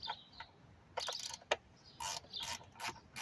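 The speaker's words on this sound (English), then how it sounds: "Tighten them by hand until they stop, and then you come back with your ratchet" Ratchet tightening bolts on the upper intake of a 2011-2023 Dodge Challenger during oil cooler replacement: short bursts of close, crisp clicking with brief pauses between strokes, no talking.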